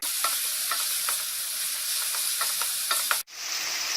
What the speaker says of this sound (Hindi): इनको लाइट ब्राउन कलर का तक भूनना है